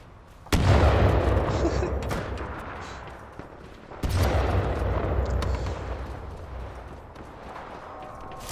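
Two heavy grenade blasts in the video game Apex Legends, each a sudden loud boom followed by a long rumbling decay, the second arriving a few seconds after the first.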